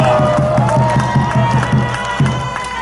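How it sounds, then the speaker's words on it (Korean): A crowd applauds and cheers for their friend Park Kyung-ho, with rhythmic clapping and a steady roar of voices throughout the short stretch. "우리 박경호 친구를 위해서 다시 한번 박수 부탁드립니다."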